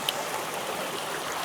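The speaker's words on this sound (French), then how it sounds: "Il y a la petite cascade qui est juste là." A small waterfall at an Australian campsite gives off a steady, even rush of falling water, fairly close and unbroken. No voices can be heard over it.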